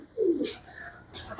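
Pigeons cooing nearby in a short, soft low burst, followed by faint rustling and light background noise.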